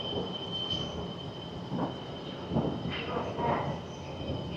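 Riding a Seoul subway train, a steady rumbling roar of the car in motion with faint tonal whines and squeaks, constant and close throughout, with people talking quietly beneath it.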